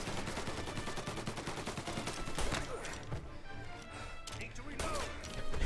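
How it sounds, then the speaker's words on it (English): Machine gun fire in Mafia: Definitive Edition, rapid bursts of shots crackling loudly, then thinning into scattered single shots amid smashing impacts. "Where is this machine gun coming from?"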